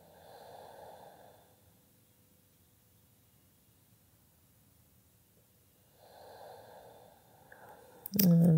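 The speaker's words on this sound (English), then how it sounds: "Three more rounds of breath here." Slow, deep yoga breaths during an evening flow: a soft airy exhale swells in the first two seconds, a long quiet pause follows, then another breath rises near seven seconds before a brief louder rustle at the end.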